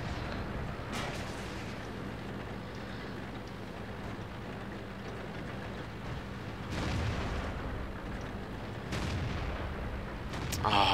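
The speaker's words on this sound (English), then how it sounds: "it's the artillery just shooting me as well" World of Tanks gameplay: a dense, steady rumble of battle noise, with deep booms from artillery shells firing and landing rising out of it several times, close and loud, and no one talking.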